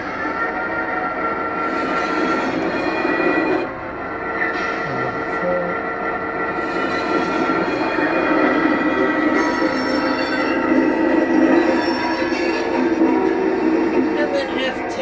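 An LGB F7 model train with a Zimo sound decoder plays its flange-squeal effect, a continuous loud, shrill metallic screech of wheels grinding against curved track, steady over a rumbling train-motion bed.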